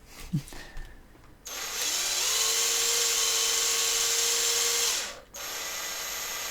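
A power drill with a wobbling bit whirs loudly for several seconds, its pitch wavering unevenly, then stops briefly and starts again, with faint rustling before it begins.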